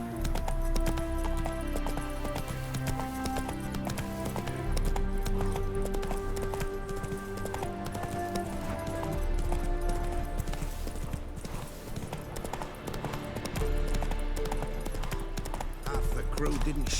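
Hooves of the horse Roach clip-clop at a steady gallop in The Witcher 3, under a continuous bed of game music with tonal layers throughout.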